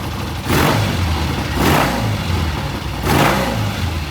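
Vintage British motorcycle engine running on a newly fitted ignition system, close and loud, with three distinct revs rising over a steady idle.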